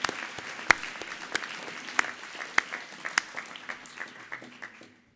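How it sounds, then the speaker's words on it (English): Audience applause at an HTMi hospitality and tourism graduation ceremony: a crowd claps in a steady patter with a few sharper, louder claps standing out, tapering off toward the end. "You can clap if you wish."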